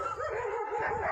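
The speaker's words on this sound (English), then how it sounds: "The dogs are welcoming us." Dogs along a mountain trekking road toward Dwarahat yip and whine in a rapid, wavering series of close, fairly loud calls.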